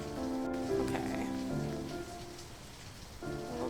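Steady rain falls outside in the video game See You Later, a continuous wash of patter heard under tonal game music with sustained notes, moderately loud and unbroken.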